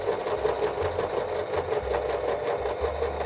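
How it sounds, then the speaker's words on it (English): A sewing machine runs a straight stitch along a folded double hem in fabric, a steady fast mechanical whir with a rapid needle patter that continues without a break, close and fairly loud, with no talking. "So we're going to start with our straight stitch and just do a couple of stitches"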